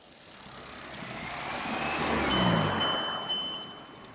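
A recumbent bicycle rolls along with steady tire hiss and light rattling, building gradually, then faint clicks as it coasts near the end.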